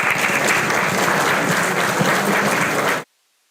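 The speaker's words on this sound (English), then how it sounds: "Can we please have a huge round of applause?" Loud, steady applause from the audience at the opening of an international conference on communication, security and artificial intelligence, continuing evenly for about three seconds before cutting off abruptly into silence.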